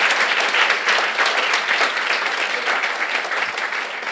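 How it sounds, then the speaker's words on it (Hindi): A church congregation gives a clap offering to Jesus during worship, a thick sustained roar of many hands clapping at even loudness throughout, with no break or speech over it. "Give Jesus a clap offering right now."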